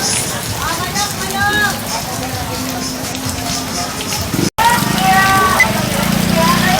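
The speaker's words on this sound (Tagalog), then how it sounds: "sinigitan na tayo ng ulan" Rain patters steadily on surfaces at a Tondo street market. People talk over the hiss in a busy outdoor setting.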